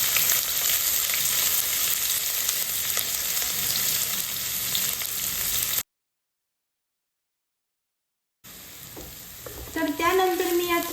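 Onion frying in hot oil with cumin seeds, a steady close sizzle with stirring; the sound cuts to silence midway, then sizzling resumes with a voice speaking near the end.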